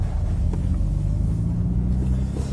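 High-performance Mercedes-Benz car turning on a speedway in second gear, a steady loud low engine and road rumble inside the cabin with a faint knock, no talk.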